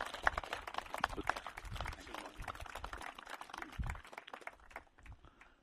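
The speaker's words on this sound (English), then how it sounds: "Perhaps you'll join with me in giving a big clap for the relatives, the real people." Audience applause at an outdoor remembrance gathering for the relatives of the 1948 Pan Am crash victims, a soft, scattered patter of hand claps that thins out toward the end.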